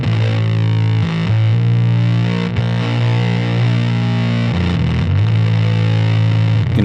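Electric guitar through a Muff-style fuzz pedal with its front end boosted, giving a loud, thick, heavily compressed sustained tone with held notes and a couple of brief note changes, played alone.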